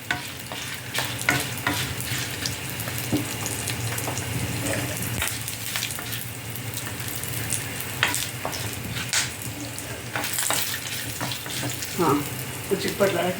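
Garlic and dried red chillies fry in a pan with a steady, continuous sizzle. Stirring scrapes and brief clinks sound close by throughout.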